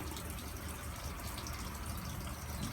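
Water gushing steadily through a drain pipe past an anti-flood flap, a continuous close rushing flow with no pauses.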